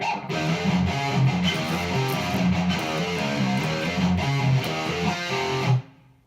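Distorted electric guitar riff, played as a steady, loud rhythmic pattern of chugging notes that cuts off abruptly near the end, with no voices.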